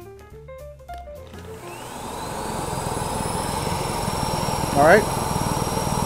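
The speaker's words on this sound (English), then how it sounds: "This is a very powerful vacuum." A powerful vacuum cleaner spins up to a loud, steady high-pitched whine and roar after some brief tones, running continuously while a person says a couple of words over it.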